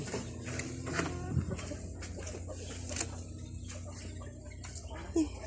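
Chickens and ducks at evening feeding time in a Thai farmyard, with scattered clucks and bird calls over a steady background murmur, some nearby voices talking, and a couple of louder close squawks.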